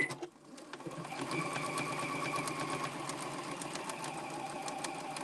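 A sewing machine stitches appliqué onto a tea towel, giving a steady, rapid mechanical whir and rattle close by that runs continuously after a brief start.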